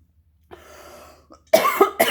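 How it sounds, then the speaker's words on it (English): A couple of sharp, loud coughs close by, preceded by a soft breathy rasp, then a brief pause before a final cough. "I'm not surprised I'm coughing from the throat chakra"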